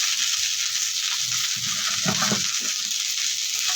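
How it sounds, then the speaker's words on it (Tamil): Onions and tomatoes sauté in a hot pan for a mint and coriander biryani, with a steady, close sizzle and occasional stirring scrapes. "இந்த வெங்காயம் தக்காளியை இதில் சேர்த்துடலாம் லைட்டாக மட்டும் வதங்கினா போதும்"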